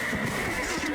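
A horse in the Black Desert Online video game gives one short, loud whinny over a dense, steady game soundscape.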